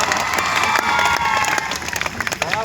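An audience at a live stage performance claps and cheers, a dense, loud wash of applause with shouts mixed in throughout.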